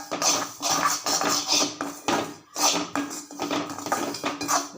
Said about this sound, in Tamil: நல்லா வறுத்துக்கலாம் அடுப்பை பார்த்து கொஞ்சம் சிம்மில் வச்சே செய்யுங்க